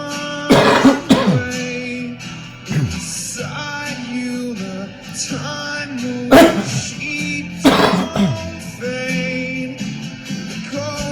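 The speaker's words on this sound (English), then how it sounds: "I got to cough it all up right now." A man clears his throat and coughs in several harsh, separate bursts, close up and loud, over a background of sustained music.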